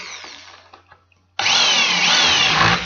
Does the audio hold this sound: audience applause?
no